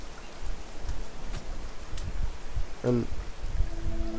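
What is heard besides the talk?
rain in the video game The Forest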